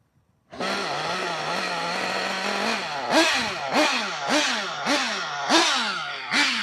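Race engine on a motorcycle fitted with a tuned pipe, idling high and steady before a string of sharp, loud revs blipping up and dropping back, close by.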